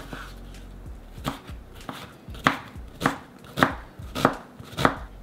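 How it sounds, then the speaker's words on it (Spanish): Onion being chopped into small cubes on a cutting board, with about eight sharp knife strikes in a steady rhythm that grow louder and more regular, heard close up. "cortar la cebolla en cuadritos"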